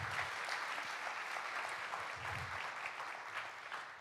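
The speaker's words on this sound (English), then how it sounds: "So give her a huge round of applause." Warm applause from a concert audience, a broad, even wash of many hands clapping at a moderate distance, continuing steadily without voices.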